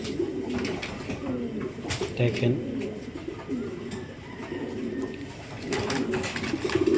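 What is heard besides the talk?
pigeons cooing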